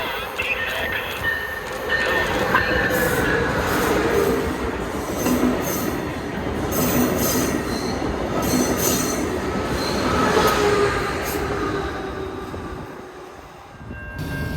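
A train rolls past a station in South Florida, with loud rumbling, rattling cars and squealing wheels that continue steadily before fading slightly near the end.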